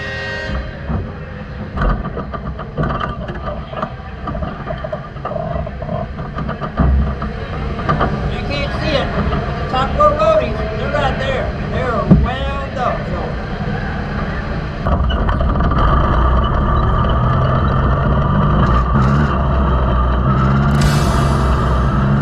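Midget race cars roar through a heat race on the Chili Bowl dirt track, a dense continuous engine drone rising and shifting in pitch as cars pass, loud throughout, mixed with crowd and announcer noise.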